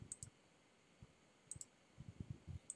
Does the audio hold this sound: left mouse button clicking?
yes